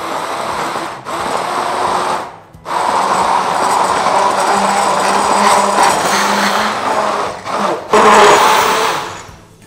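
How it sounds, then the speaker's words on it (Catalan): A handheld immersion blender whirs loudly and steadily while mixing gluten-free pizza dough, its motor drone broken by a few brief pauses where it stops and restarts. "I amb la batedora de mà anem a"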